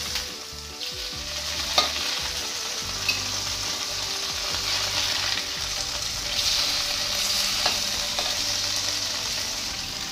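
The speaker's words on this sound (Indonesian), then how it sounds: "untuk tahu setengah matang saja ya gorengnya, karena tahu dari sananya juga sudah matang." Tofu pieces crackle in hot oil in a pan, a continuous close sizzle with occasional sharp pops and scraping as they are turned, no voices over it.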